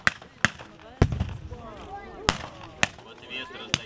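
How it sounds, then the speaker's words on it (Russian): Russian troops' artillery barrage heard as sharp, spaced blasts, about six booms over a few seconds with a rumbling tail after one, mixed with faint background voices. "Это происходит артподготовка русских войск."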